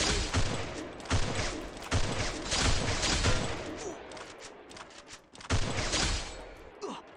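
Gunfire in a shooting video game: heavy volleys of shots burst out repeatedly, loud and close, with a few quieter pops between the salvos and faint voices underneath.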